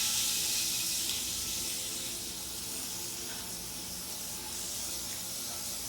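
Onions hitting a hot pan for an egg scramble and stir-fry, a loud bright hissing sizzle that starts strong and settles into a steady, slightly softer fry.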